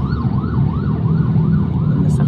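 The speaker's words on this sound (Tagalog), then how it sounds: "Katulad yan, may ambulansya na naman." An ambulance siren on a road wails in a steady rising and falling cycle, loud and continuous over engine and road noise from a truck, with a brief click near the end.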